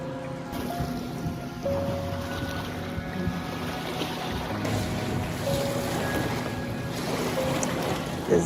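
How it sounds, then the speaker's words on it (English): Steady engine drone of motor boats on Lake Atitlan, Guatemala, with wind and lapping waves, a continuous mid-distance hum with no voices. "So you can hear the boats when they start going."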